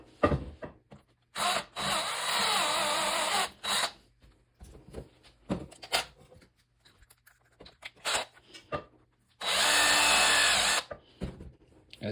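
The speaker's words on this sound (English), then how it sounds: "take a little wire wheel and go around this little lip where the retaining rings sit" A Dremel with a wire wheel cleans the retaining-ring lip of a U-joint: two loud, close, sustained whirring bursts of grinding, with quieter scraping and ticking handling noises between and after them.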